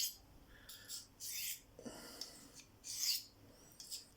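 A C70 carbon steel knife blade drawn evenly with no pressure across a 600 grit sharpening stone, giving soft, faint rasping strokes in a loose rhythm of about six passes, alternating sides, with no talk.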